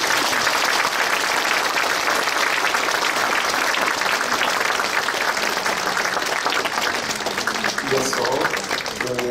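Congregation applauding during a church retirement and ordination ceremony, sustained warm clapping from a large crowd that continues throughout, with a voice speaking over it toward the end.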